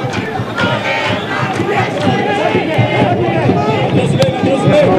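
A football crowd at a Brazilian league match between Barueri and Fluminense jeers and roars at a player, a dense, loud stadium din of massed voices rising steadily throughout.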